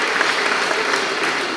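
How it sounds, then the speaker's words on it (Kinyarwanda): A crowd at a church festival procession of the Blessed Sacrament in Gisenyi claps steadily, a dense, even wash of applause heard from nearby with no break. "Abakuru barahangaha bampera abana amashyi n'impundu,"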